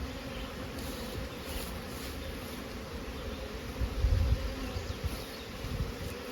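A honeybee hive being moved and turned around, with a dense, steady buzz of many bees close by and a louder swell of buzzing and handling noise midway.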